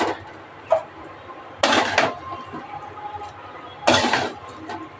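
A serving spoon scrapes and knocks against a pot while banana-flower curry with prawns is transferred to another dish, giving three loud scraping bursts and a light clink, up close, with no talk.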